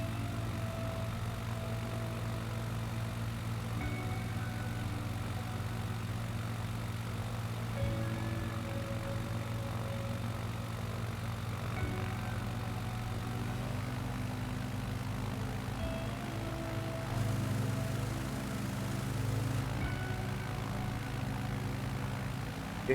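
A small propeller airplane drones steadily in flight, its engine heard from inside the cabin as a continuous, even hum that stays constant throughout.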